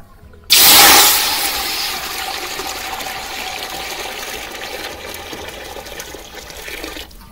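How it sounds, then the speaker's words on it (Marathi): Water gushes suddenly into a metal pot set on a wood-fired clay stove, starting loud and close, then settling into a steady pouring and filling sound that continues to the end. "मी अर्धी कळशी आदण ठेवणार आहे पाण्याचं"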